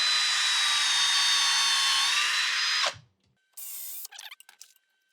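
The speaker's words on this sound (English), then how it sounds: "I've got a tapered drill bit with a countersink that I'll use to drill my holes" A power drill with a tapered countersink bit bores pilot holes into cabinet wood for a countertop install, a loud steady whine lasting about three seconds, then a pause and a second short burst that sputters and stops.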